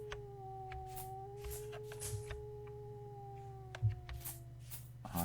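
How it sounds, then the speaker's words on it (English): Wolves in the survival game Vintage Story give long, steady howls, two sustained tones held across several seconds under scattered clicks and game sounds, at moderate distance. "When they howl like that, that means that they're within aggro range, and that's the warning call."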